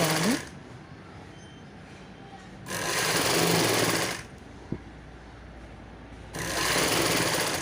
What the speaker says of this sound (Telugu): స్టిచ్ చేసుకోవాలి.